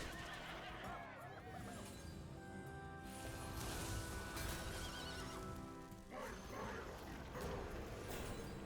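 A horse whinnies within Hearthstone's digital card game audio, a neighing call layered over busy game sound effects and music, fairly loud and lasting a few seconds.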